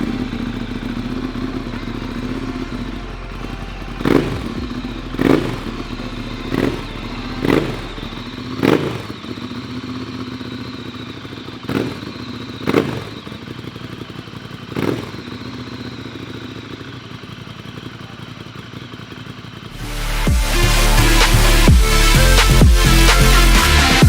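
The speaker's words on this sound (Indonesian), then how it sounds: "Mau dengerin bagaimana merdunya suara L-Twin 2 silinder dari Ducati dengan knalpot Termignoni?" A Ducati Monster's two-cylinder L-twin with a Termignoni exhaust starts with a string of sharp, evenly spaced blips and thuds. It then swells into a loud, sustained, close engine roar near the end.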